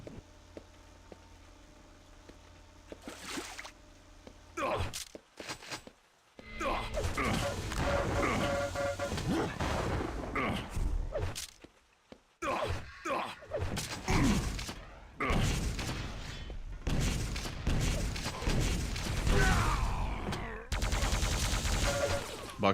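Rocket launcher blasts and explosions in a Quake Live match, loud bursts of crashing impacts and rapid weapon fire coming in dense clusters separated by brief silent gaps.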